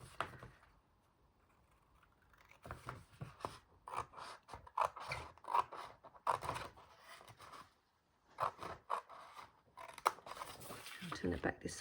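Scissors cut straight across a single-sided 12x12 sheet of craft paper, giving a series of close, crisp snips and rustles in bursts, with quiet pauses between them.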